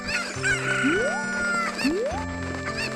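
A chicken in the Zelda Master Quest 3D video game squawks and clucks in repeated loud bursts over steady background game music, with no talking.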